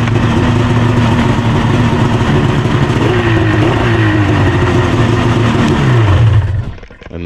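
An Arctic Cat Crossfire 800 HO snowmobile engine, fitted with a replacement fuel pump, runs loud and steady up close with a droning hum and throttle blips, then shuts off near the end.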